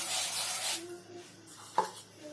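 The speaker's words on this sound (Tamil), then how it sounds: "நம்ம இப்போ பூரி கட்டையில எடுத்து தேய்ச்சிக்கலாம்." A wooden rolling pin rolls out poori dough on a board, giving a soft, close rubbing swish that fades after the first stroke, followed by faint scraping and a single light knock.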